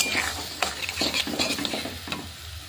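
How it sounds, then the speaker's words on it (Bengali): Spices, potatoes and onions being stir-fried in a pan for a Bengali spicy snail and potato curry, a constant sizzle broken by repeated scraping strokes of a spatula, close and fairly loud. "মশলা আলু পেঁয়াজ আমি ভালো করে কষিয়ে নেব।"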